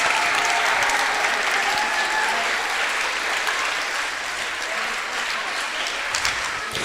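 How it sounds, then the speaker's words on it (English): Broad, steady applause from a congregation at a Sunday feast for the Sunday school teachers, continuous and fairly loud throughout, easing slightly midway, with no talking over it. "So give a big round of the applause for both of the teachers"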